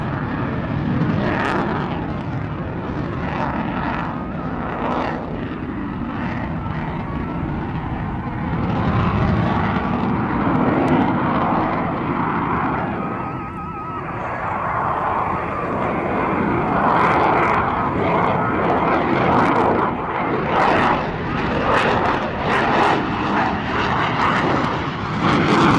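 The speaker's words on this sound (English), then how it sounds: "let you enjoy the F-22 Raptor" An F-22 Raptor jet fighter flies by with a loud, continuous roar that swells and dips slightly over nearly half a minute, with crackling bursts toward the end and no talking.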